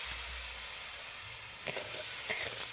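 Sugar with a splash of water melts in a pan for Bengali badam chikki, a soft steady hiss joined after a moment by a few close scraping stirs; no talking.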